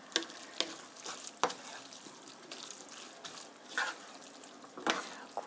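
A spatula scrapes and tosses spicy gochujang spaghetti in a pan at a campsite, with sharp, irregular clacks and stirring swishes over a soft sizzle.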